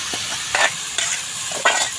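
Spiced meat with onion and garlic frying in a kadai, with a close sizzle broken by three short scraping strokes of a spoon stirring. No one speaks.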